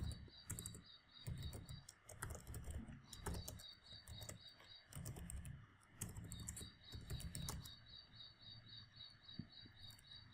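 Typing on a computer keyboard in a quiet room, irregular bursts of soft key clicks with short pauses between them, faint and close, over a thin high-pitched background hum.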